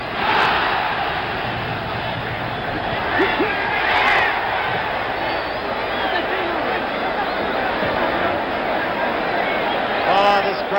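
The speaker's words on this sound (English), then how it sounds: "Crowd roars again" A boxing crowd roaring during the eighth round of the 1977 George Foreman vs Jimmy Young fight, a loud, sustained arena roar that swells in waves and keeps going to the end.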